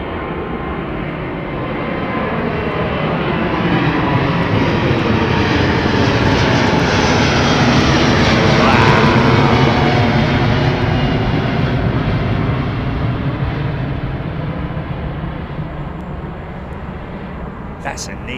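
An Airbus A330-900neo jet at London Heathrow passes close by, its engine roar swelling to a loud peak midway and then fading, with a sweeping whine and people talking over it.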